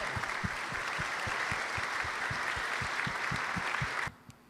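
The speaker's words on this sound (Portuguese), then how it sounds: "Convido a comunidade, então, a uma salva de palmas como agradecimento" Church congregation applauding in thanks at a 40th-anniversary special service, a dense steady wash of many hands with rhythmic clapping beats, sustained for about four seconds before cutting off abruptly.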